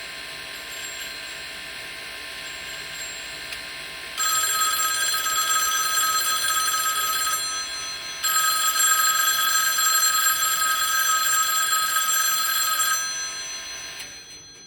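A quiet mechanical bell of a vintage Automatic Electric telephone ringer on 66.6 frequency rings in two long bursts separated by a pause, faint and tinny, with no voices.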